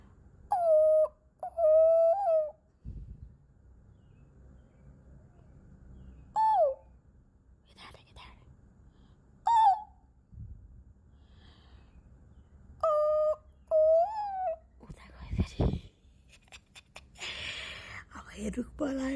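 A bird calling from a tree, repeated clear whistled notes in short groups separated by quiet gaps, with whispering and soft sounds between and a louder noisy burst near the end.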